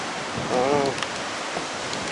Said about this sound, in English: It'll stop raining for about 3 seconds. As you can see, it's already started back.